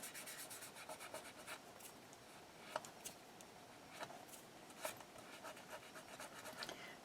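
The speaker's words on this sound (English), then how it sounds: "Rubbing off the excess glue." Excess Fabri-Tac glue is rubbed off a handmade journal's cover, making faint, quick rhythmic scratchy rubbing strokes with a few soft taps, close and quiet throughout.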